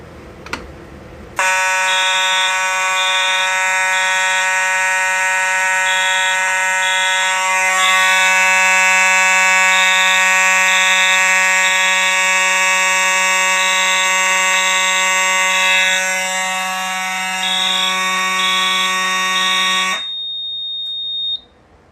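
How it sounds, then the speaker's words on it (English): A Silent Knight 5820XL fire alarm system sounds after a T-bar pull station is key-activated: a loud, steady electronic horn tone with pulsing high beeps that runs continuously for about eighteen seconds, then cuts off abruptly. "turn it and open it, and we'll get an alarm."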